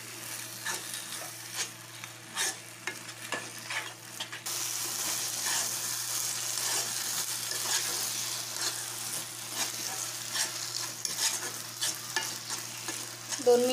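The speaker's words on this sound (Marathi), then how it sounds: "छान असं 1 ते 2 मिनटं परतून घ्यायचं आहे भोपळा" Red pumpkin pieces sauté in a pan for a sweet halwa, a continuous crackling sizzle broken by repeated scraping stirs of a spatula, close and moderately loud, with no talking.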